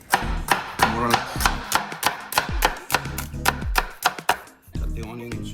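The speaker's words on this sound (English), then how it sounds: "Cut the onion into strips and then into little cubes" A knife chops an onion into small cubes on a board in a home kitchen, about a dozen crisp, evenly spaced strikes that are close and distinct, with no talking.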